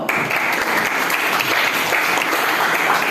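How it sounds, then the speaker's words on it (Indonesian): A classroom of people clapping steadily and enthusiastically for a few seconds. "Silakan tepuk tangan dulu"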